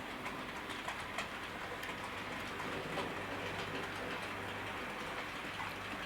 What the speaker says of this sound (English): The locomotive, you should just see it coming around the back.